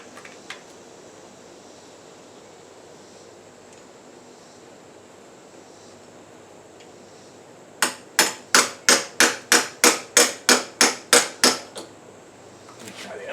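A hammer tapping a socket to drive a part out on a 1974 Suzuki TC 125 motorcycle: quiet workshop at first, then about a dozen sharp metallic strikes in a steady, quickening series, close and loud.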